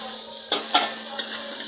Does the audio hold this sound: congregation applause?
no